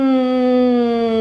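A voice imitates an aeroplane flying overhead with a steady, sustained humming "Nnn" tone, held evenly and fairly loud for about a second with no other sound.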